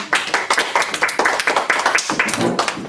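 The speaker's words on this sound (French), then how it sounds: "Merci Jérémy, on l'applaudit." A crowd claps in a dense burst of applause, steady and lively for a few seconds, close by.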